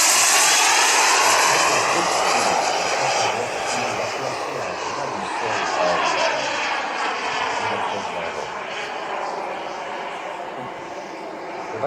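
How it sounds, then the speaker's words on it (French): A Viper Jet aircraft flies slowly at low altitude, its engine giving a loud, continuous roar that shifts gradually in pitch as it passes close by. No one speaks. "Cet avion est capable de voler à une vitesse extraordinairement basse."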